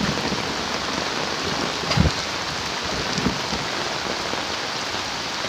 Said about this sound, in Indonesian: Kemudian ini curah hujan meningkat lagi, naik lagi hujannya.